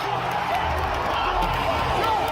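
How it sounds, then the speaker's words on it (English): A stadium crowd roars at a fighting-game reveal, a dense, continuous wall of cheering and shouting voices that never lets up. "That is the sound of a stadium full of people collectively losing their minds."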